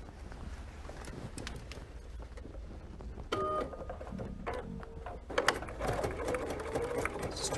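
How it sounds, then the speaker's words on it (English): A sewing machine runs a straight stitch with a 1/4 inch flanged presser foot on a pinned bias-strip lattice quilt, its steady mechanical whir continuing throughout with small bumps and clicks as the fabric is guided. "And now I'm going to sew this for you."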